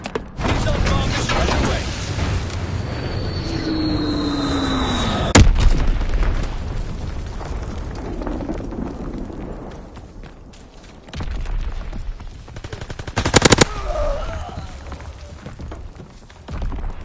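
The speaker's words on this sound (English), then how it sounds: "Strafing run inbound." An aircraft makes a strafing run in a video game, with loud rumbling booms and bursts of gunfire over a constant dense background roar, one sharp blast near the middle and another crackling burst later.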